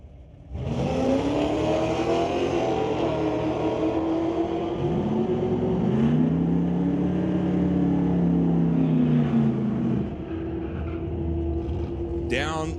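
Two drag cars, a 1972 Chevelle and an S10, roar down the track at a pro race, a loud sustained engine drone with a rising pitch that holds steady before dropping off near the end.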